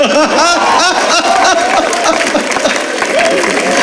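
A crowd at a Hindi-language speaking event breaks into loud, sustained applause close by, with scattered chuckles and voices mixed into the clapping.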